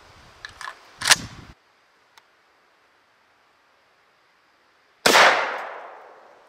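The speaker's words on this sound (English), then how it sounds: "when you put a shell in and fire it, it actually brings the pump a portion of the way back without you even having to rack it" A Winchester SXP Field Compact pump shotgun fires one loud, sharp blast with a long fading tail, preceded by a few quick metallic clicks and rattles of handling and the pump action.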